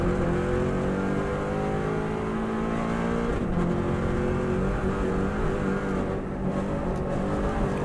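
A Subaru WRX STI rally car accelerates hard on the Isle of Man mountain course, its engine note climbing steadily and loud through the gears. Rising harmonics carry on with a brief dip mid-run, up close inside the car.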